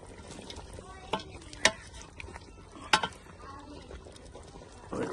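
Chopped tomatoes and green chillies cook with chicken in a pan for an aseel chicken qorma, a faint low sizzle under a few sharp utensil scrapes and clinks, with scattered stirring sounds.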